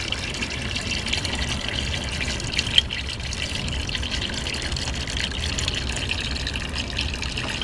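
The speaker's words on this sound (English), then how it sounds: "This pan holds a good bit of water, so we're going to fill it up to pretty close to the top." Water pours steadily into the water pan of a Weber Smokey Mountain smoker, a continuous close gushing fill with one brief clink partway through and no talking.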